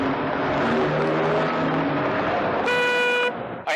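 Busy road traffic drones loudly with engines passing, then a car horn sounds in one sustained honk near the end.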